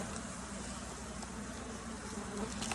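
Honey bees drone steadily on a hive frame being worked during almond pollination, a dense continuous buzz that stays close and even throughout with no talking.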